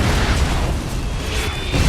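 A deep, boomy bomb blast in the battle game PUBG, with a dense low rumble lasting the whole moment and no voices.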